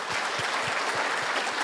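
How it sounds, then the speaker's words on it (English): An audience applauds steadily after a request to cheer a guest at a business talk on bootstrapping and scaling, the clapping dense and continuous throughout, with soft low thumps recurring underneath. "Can I get a round of applause for Zach?"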